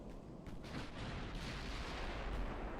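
Naval guns fire in Ultimate Admiral Dreadnoughts during a 1940 German battle involving the Tirpitz, heard as a deep rumbling boom and low roar that lingers over several seconds at moderate distance.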